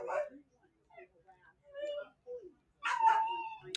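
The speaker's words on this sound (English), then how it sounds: "the dogs are barking" Dogs bark and yip in the background, a few short, faint barks mixed in with a person talking over them.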